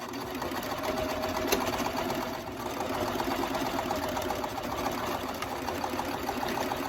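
Close, continuous rapid stitching from a sewing machine running along a jeans hem, an even mechanical whir that holds a steady pace throughout with no talking.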